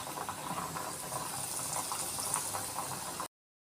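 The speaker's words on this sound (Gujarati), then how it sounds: "અને આ રીતના બધી તળી લેવાની." Potato chip slices frying in a pan of hot oil make a continuous, even bubbling sizzle at moderate level, with no talk, cutting off abruptly just before the end.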